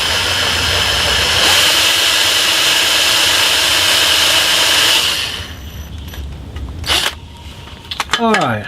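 A power drill bores a hole into a wooden shutter slat to fit a replacement pivot pin: a loud, steady whirring drive for about five seconds, then it stops, leaving quieter handling noises and a few brief knocks.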